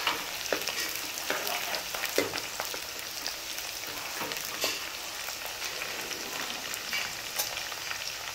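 Onions and green chilies sizzle steadily in hot oil in a pan, a close crackling frying sound with occasional stirring scrapes and no voices.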